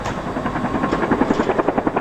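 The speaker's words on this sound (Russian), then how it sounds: "Вертолет Ми-10 приближается к вышке." A Mi-10 flying crane helicopter approaches a tower at a construction site, its rotor giving a loud, steady, rhythmic blade thump over a continuous engine roar.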